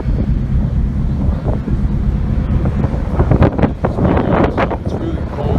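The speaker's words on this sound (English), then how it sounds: "It's really cold up here and really windy." Strong wind buffets the microphone at a high, cold viewpoint on a Paris trip, a loud continuous roar with gusts throughout and brief voice-like bursts near the end.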